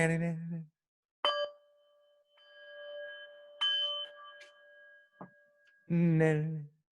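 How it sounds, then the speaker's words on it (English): A Tibetan singing bowl is struck several times, each strike giving a bright ding followed by a sustained, ringing tone that fades slowly, with people talking between the strikes. "that was really you hitting the Tibetan bowl"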